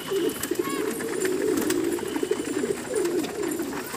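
Pet pigeons coo in soft, repeated throaty bursts close by, their low warbling calls continuing steadily with a little background noise.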